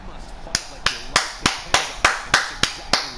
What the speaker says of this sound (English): I'm clapping for that one